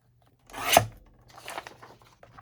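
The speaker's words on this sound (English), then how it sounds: "let's just trim this off." Junk mail envelope paper being trimmed, one sharp close snip or tear followed by a few quieter scattered rustles and cuts, with no talking.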